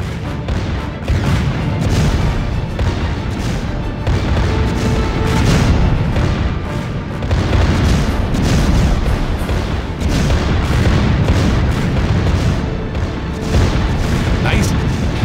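Warship explosions and artillery fire from the Warship Rising naval battle game keep up a dense, continuous barrage of booms and blasts throughout, with heavy low-end rumble and steady loud intensity.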